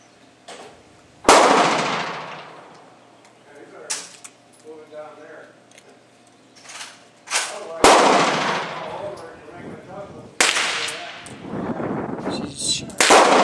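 Gunshots from a Ruger revolver and a Beretta semi-automatic pistol crack out loud and close, spaced single shots with a few quick pairs, separated by quieter stretches where people talk.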